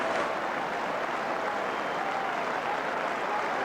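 A rugby league crowd applauds at a Wigan match on a bitterly cold evening at the final hooter, a steady, dense wash of clapping that stays even and fairly distant throughout.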